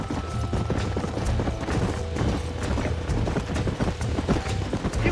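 Horses galloping in the Red Dead Redemption game, a steady rapid clip-clop of hooves with creaking tack, fairly close and continuous throughout.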